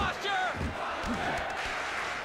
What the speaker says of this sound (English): the crowd is in favor of Josh Koscheck